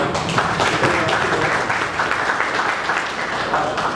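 Audience applause at a lecture on Antonio Silvino and the Great Western, at the Cariri Cangaço event, filling the room with steady, dense clapping throughout, with faint voices mixed in.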